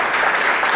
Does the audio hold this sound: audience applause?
yes